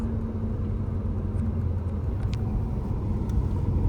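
A Porsche Carrera S cabriolet with a 3.8-liter direct-injection engine and seven-speed PDK transmission drives steadily, giving a continuous, loud low rumble of engine and road noise from inside the car.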